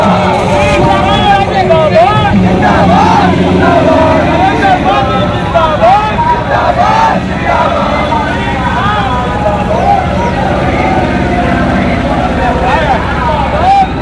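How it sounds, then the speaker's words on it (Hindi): A huge crowd packs a ground at an outdoor political rally, a dense, loud babble of many voices with shouts and cheers rising over a steady roar, while a voice over loudspeakers carries through it. "इतनी भीड़ उमड़ी"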